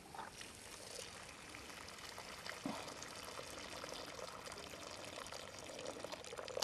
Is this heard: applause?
no